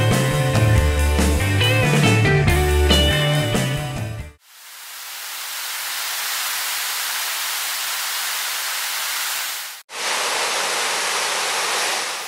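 Nooksack Falls on the Nooksack River roars as a loud, dense, continuous hiss of falling water. It follows a few seconds of music, breaks off briefly, then resumes just as strongly, with no talking.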